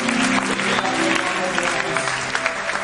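A church congregation applauds loudly and continuously at a prophetic worship service, dense clapping filling the hall with some cheering mixed in.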